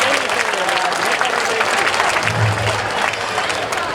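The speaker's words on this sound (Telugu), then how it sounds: "గట్టిగా చప్పట్ల ద్వారా వాళ్ళకి ధన్యవాదాలు తెలియజేస్తుందిగా మిమ్మల్ని కోరుతున్నాం" At a college annual day celebration, an audience applauds with loud, continuous, dense clapping that fills the hall without a break.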